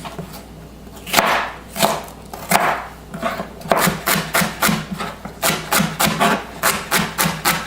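Celery chopped with a knife on a cutting board for chicken tortellini soup: crisp, close knocks, a few spaced strokes, then a fast even run of rhythmic chops.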